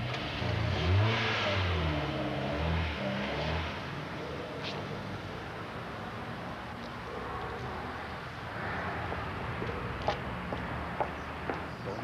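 A car pulls away with its engine revving hard and rising in pitch through a couple of surges, then recedes into a quieter background hum.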